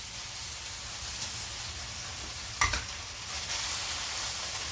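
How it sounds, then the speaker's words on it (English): Shrimp and snow peas stir-fried in a hot pan, an even, full sizzle throughout, broken once by a sharp clatter of a utensil stirring, close by and with no voices. "We're going to stir fry this for just a couple of seconds, just to get them warm through."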